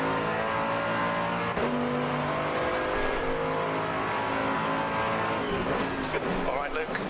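Race car engines at a race start in Assetto Corsa Competizione, GT2 cars including a Porsche, forming a loud continuous layered engine drone with rising and falling revs. Someone talks over it.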